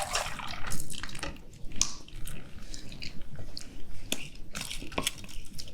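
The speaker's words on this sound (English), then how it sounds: "So we'll just do it over a strainer." Egg and milk custard mixture for espresso crème brûlée poured through a strainer, giving steady close liquid trickling and dripping with small clinks and squishy scraping against the mesh and bowl.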